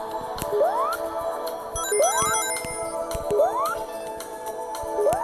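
A Nintendo DS chime heard during Sonic CD gameplay: a repeating rising electronic tone that recurs about every second and a half, over busy game music and sound effects.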